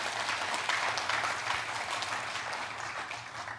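Conference audience at a congress panel session claps in a steady, fairly distant wash of applause that thins slightly toward the end.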